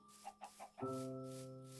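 A Minecraft chicken clucks in a few short, close bursts, then a sustained tonal game sound takes over and rings on steadily to the end.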